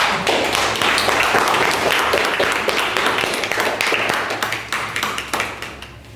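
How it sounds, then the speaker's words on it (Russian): An audience applauds a volunteer at a hypnosis demonstration during a tattoo session, with dense, loud clapping that thins out toward the end into a few scattered claps. "Аплодисменты."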